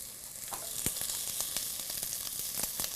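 Onions browning in a pan over an outdoor heat source, a continuous close sizzle punctuated by frequent quick pops and crackles.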